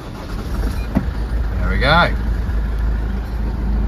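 A Toyota 2.2 D4D diesel engine, recently cured of a cold-starting fault, cranks briefly and catches, then settles into a steady low idle rumble nearby; a short spoken remark comes just before.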